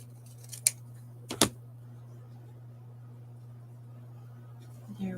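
Two crisp scissor snips trim material up close, sharp and isolated over a faint steady background hum.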